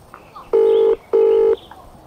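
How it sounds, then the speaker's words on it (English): A mobile phone on loudspeaker plays its ringback tone, two even, loud electronic rings close together with faint room sound between them. "It's ringing."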